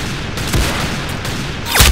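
Gunfire in the video game Arsenal, a few sharp loud shots with a heavier blast near the end over a dense noisy game soundscape, close and punchy.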